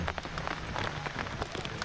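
A brief patter of rain falling on surfaces in Ranthambore forest, soft and fairly distant, with scattered drops tapping irregularly.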